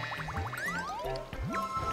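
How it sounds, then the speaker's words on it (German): A water bubble in the video game Super Mario Galaxy 2 sloshes and gurgles in squelchy, sliding watery tones, continuous and fairly loud over game music. "Scheiß Wasserkugel."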